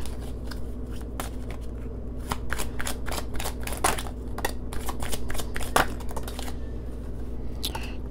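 A deck of cards being shuffled, repeated crisp riffling snaps close by, in an uneven rhythm against a low steady hum.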